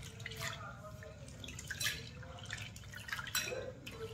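Chana dal being rubbed and rinsed by hand in water, with soft irregular dripping and splashing close by at a low level throughout.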